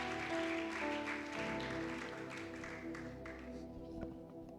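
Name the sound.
church congregation applauding the Lord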